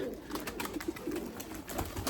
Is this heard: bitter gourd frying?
no